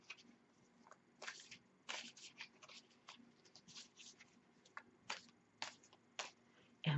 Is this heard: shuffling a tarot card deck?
yes